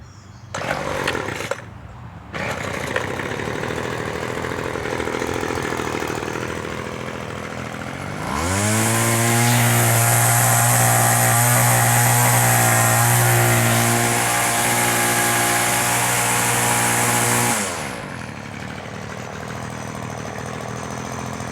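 A Featherlite two-stroke weedeater engine revs up sharply and holds a loud, buzzing high-rev whine for about nine seconds before dropping back to idle, with rattling handling noises beforehand.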